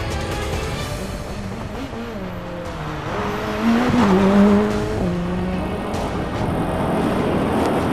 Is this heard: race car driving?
yes